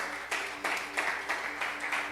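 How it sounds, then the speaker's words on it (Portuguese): A church congregation claps in a rhythmic unison beat, roughly three sharp pulses a second, moderately loud in a reverberant hall, with a faint sustained tone underneath. "vamos aplaudir o Senhor"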